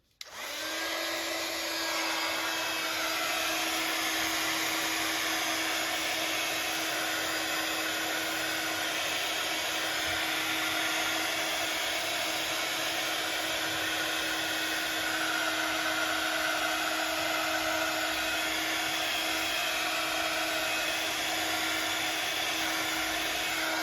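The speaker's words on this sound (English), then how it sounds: "I'm going to give it a bit of a blast with a heat gun." Heat gun blowing steadily on a wet teabag journal cover: a continuous, even whirring hiss with a high whine, running unchanged and fairly close for the whole stretch, with no talk.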